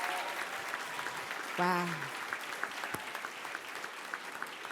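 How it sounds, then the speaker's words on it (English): Applause from an audience honoring recognized dual-enrollment students at a school ceremony, steady and dense throughout, with a brief spoken exclamation in the middle. "A round of applause for these young people."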